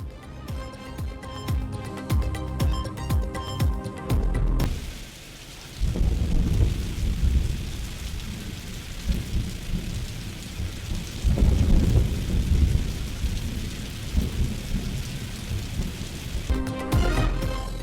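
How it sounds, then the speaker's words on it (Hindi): Heavy rain pours during a thunderstorm in Islamabad, with loud rolling thunder bursts rising and fading over the constant hiss of rainfall; no voices. "इस्लामाबाद में आंधी और गर्द आलूद हवाएं, मुख्तलिफ इलाकों में बादल बरस पड़े।"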